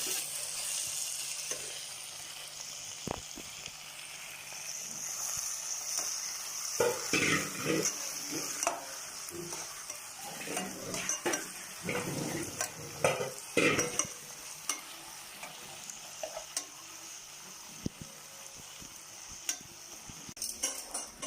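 Crushed ginger stirred into chicken biryani masala in a pan, a soft sizzle under scraping and clinking strokes of a spoon, irregular and close, fading toward the end.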